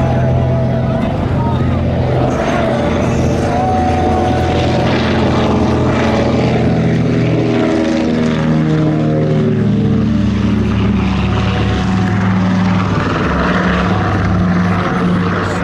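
A DC-3 propeller airliner flies low over a community charity airshow, its radial engines giving a loud, throbbing drone that swells and shifts in pitch as it passes, with some voice faintly underneath.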